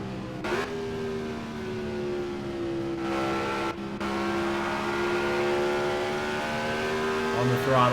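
Race car engine on throttle in the Indianapolis 500 Evolution game at the 1964 Trenton 150, a loud, sustained high-revving whine climbing and holding in pitch, with brief gear-change dips and someone talking over it.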